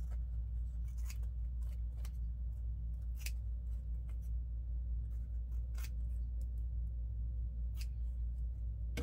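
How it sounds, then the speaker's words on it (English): Scissors cutting craft material for a faux blueberry pie: sparse, crisp snips at irregular intervals, close but faint, over a steady low hum, with no voices. "And let's cut some more of this color."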